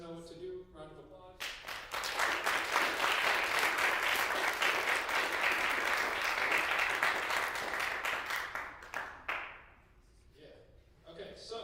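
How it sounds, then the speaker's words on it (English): An audience at a university design review claps in a sustained round of applause. Dense clapping builds quickly, holds steady for about eight seconds, then thins and fades. A voice is briefly heard before the clapping starts. "Round of applause."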